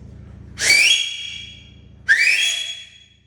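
A person whistles loudly twice outdoors toward kids down the street, two sharp rising calls separated by a pause, each trailing off.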